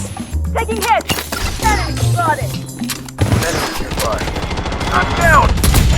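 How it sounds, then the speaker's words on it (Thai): Gunfire in the shooter game Blood Strike, loud rapid bursts mixed with game sound effects and music, with someone talking excitedly over the action. "เขี่ยแล้วยิงมันไม่โดน"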